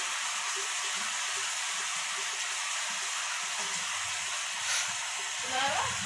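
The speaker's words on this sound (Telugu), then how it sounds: "అన్నీ మన దగ్గర ఉన్న మసాలాలు అన్నీ వేసుకుని మంచిగా గ్రేవీ వచ్చేలా కలుపుకోవాలి." A pan of street-style noodle gravy with spices sizzles steadily and loudly throughout, with faint stirring scrapes and a short bubbling swish near the end.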